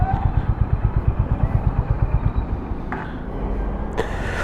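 A Honda CB350 cruiser motorcycle rides at low speed through a U-turn, its engine making a steady, quiet thumping pulse with some clatter, and a brief voice near the end.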